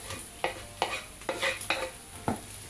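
Beef is stirred in a pan with bell pepper and eggplant, and a spoon makes about six distinct scraping strokes at a steady pace over a soft, continuous sizzle close by.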